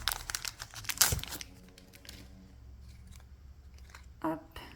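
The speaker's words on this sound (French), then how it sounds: "ces petits boosters EV là sont un peu compliqués à ouvrir" Crinkling and tearing of plastic wrappers as Pokémon EV mini booster packs are opened, close crackles and rips in a busy burst at first, then quieter rustling, with a voice heard briefly.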